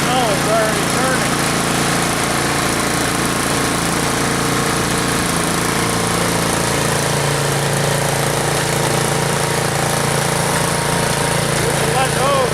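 A Troy-Bilt Storm 2840 snow blower engine runs steadily and loudly close by for the whole stretch, with a continuous droning hum that never stops or changes pace.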